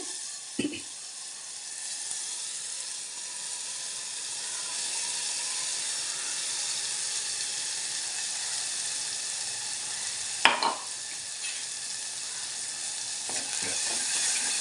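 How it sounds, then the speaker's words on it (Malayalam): Ground chili-tomato paste for a fish curry sizzles and hisses steadily in a hot pan as it is sautéed, with a couple of brief scraping, clattering stirs of the spoon breaking through the constant frying. "അതിലേക്ക് നമുക്ക് ഈ അരച്ച് വെച്ചിരിക്കുന്ന ഈ കൂട്ടിട്ടിട്ട് നന്നായിട്ടൊന്ന് വഴട്ടി കൊടുക്കണേ"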